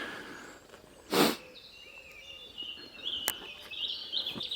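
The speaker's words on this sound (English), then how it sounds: "You can probably hear all the birds." Birds chirp and whistle around Knypersley Reservoir, faint and scattered, with thin calls and short tweets over a quiet outdoor background and one brief louder rustle, with no talking.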